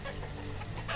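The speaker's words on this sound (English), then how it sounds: "so we'll have like 58 chickens here" Chickens cluck inside the farming game Banished, where a pasture holds dozens of hens. Short clucks rise over a steady, fairly loud ambient bed across one second, with no talking.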